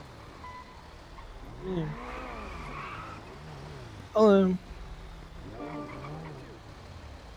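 A truck bursts in without warning during a GTA roleplay session: one loud, sharp, tonal blast about half a second long rises suddenly over ongoing conversation and game noise.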